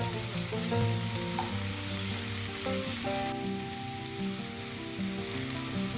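Spinach leaves frying in oil, a dense, even crackling sizzle that holds steady throughout, with faint tonal hum in the background.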